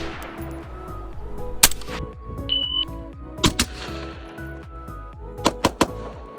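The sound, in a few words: suppressed gunshots, Gemtech Trek II on 11.5 inch 5.56 gun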